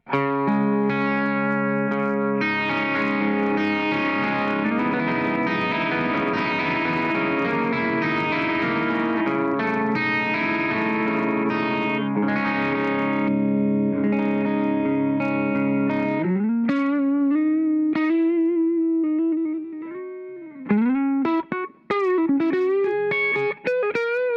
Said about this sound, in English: this is kind of the guitar into the matchless with just a bit of reverb